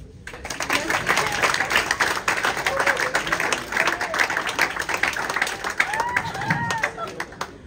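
An audience at a breakfast and brunch competition final in Saint-Paul, La Réunion, applauds steadily throughout, with cheers and a voice speaking over the clapping.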